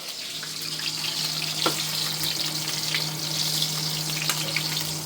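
Paratha frying in hot oil gives a steady, close sizzle with a constant hum beneath it and a few brief pops.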